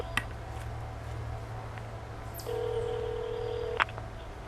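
Quiet room tone under a low hum, with a few faint clicks and a short steady electronic tone, like a phone dialing, ending in a brief chirp.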